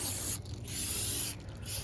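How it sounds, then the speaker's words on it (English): Aerosol rustproofing spray hisses into the inner lip of a car door in two long loud bursts separated by a brief pause, close and steady. "I also spray it in"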